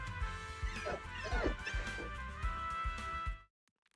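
Dog barks and whimpers in Zenless Zone Zero, with a few yips over game music and effects, fairly close and loud, ending abruptly in silence.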